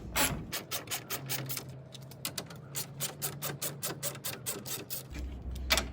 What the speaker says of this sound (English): So I'm just going to undo these 10mm bolts.